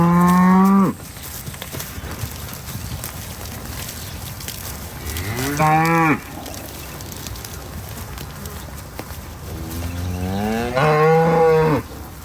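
Cattle moo loudly as a herd is let through a gate into a new pasture on a farm, with three long, drawn-out calls spaced several seconds apart and low background noise between them.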